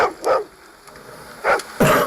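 A dog barks in three or four sharp, separate yips, fairly close and loud, with quiet gaps between barks and no voices.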